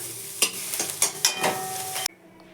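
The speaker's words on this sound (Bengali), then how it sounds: "নিমকুড়ির ঘন্ট করার জন্য নিম পাতা প্রথমেই ভেজে নেবো" Neem leaves frying in hot oil in a pan while being stirred: a steady close sizzle broken by several sharp scraping stirs, then cut off abruptly as the pan goes quiet.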